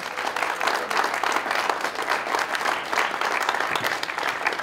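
An auditorium audience at Creighton University's Hickson Lead Auditorium applauds guest Bruce Holberman, a steady, dense wash of clapping from the full crowd that holds level without letting up.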